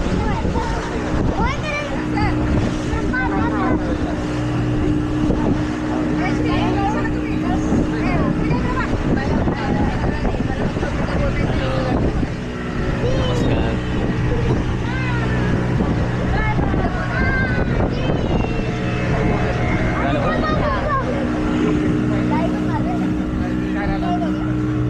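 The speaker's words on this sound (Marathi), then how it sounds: "होडीने आपल्याला जायचं आहे." A boat carrying passengers to Sindhudurg fort at Malvan runs with a steady engine drone and water rush, and people talk over the constant noise throughout.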